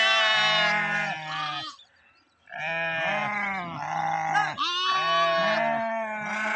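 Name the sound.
sheep bleating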